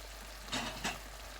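Wild vegetables stir-fried in a pan: two short, soft bursts of sizzling and scraping as the greens are tossed, over quiet background noise.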